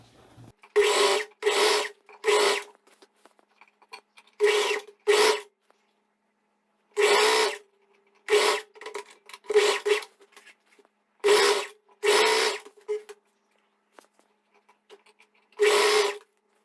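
Sewing machine stitching a seam on fabric, running in about a dozen short bursts of rapid mechanical whirring separated by pauses, close and clear with no talking.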